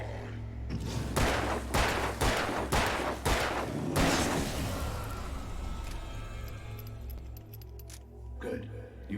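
Gunfire from the video game Alan Wake: a rapid run of six or so sharp shots crack out in quick succession, then fade into a low ambient hum, with a faint voice in the background.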